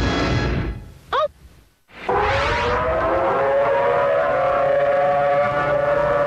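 Tornado warning sirens wail in a long, sustained, steady tone that fills most of the clip. The tone comes after a brief rising sweep and a short gap near the start.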